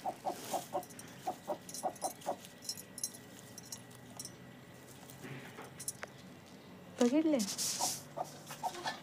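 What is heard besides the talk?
hen clucking while guarding her eggs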